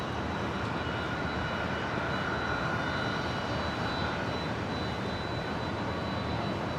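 A jet airliner taking off at Brisbane Airport, a continuous broad engine roar at steady loudness heard from a distance, with a thin high whine running through it.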